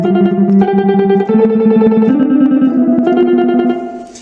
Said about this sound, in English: it can also give you a pretty cool 1980s computer type sound effect.